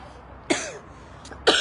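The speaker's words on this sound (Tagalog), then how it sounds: "Ubo pa more." A person coughs twice, close and sharp, with a short gap between the bursts.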